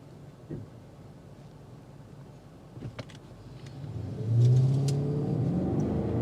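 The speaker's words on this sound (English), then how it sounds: "You get the cracks that's coming into that twin turbo V8." A BMW X5 twin-turbo V8 engine rises into a loud rev near the end, with a low droning tone building over steady road rumble.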